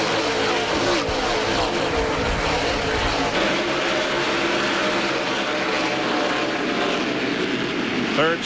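A field of 1997 NASCAR stock cars roars to speed at the CMT 300 as the pace car peels off, a dense, continuous wall of engine noise with a commentator talking over it.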